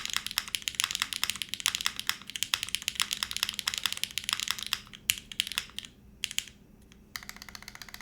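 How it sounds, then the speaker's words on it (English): Fast, loud clacking on a custom-built mechanical keyboard with an aluminum bottom, dense keystrokes running continuously, briefly thinning to scattered presses before resuming, close up with no talk. "It's a really loud keyboard"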